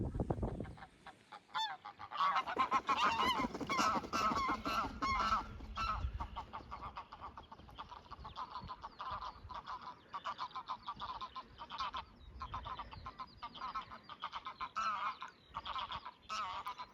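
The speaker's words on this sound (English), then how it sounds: "There's loads of geese hidden in that island" A flock of geese on a lake island in the Lake District honks continuously, many overlapping calls forming a busy, somewhat distant chorus that carries on without pause.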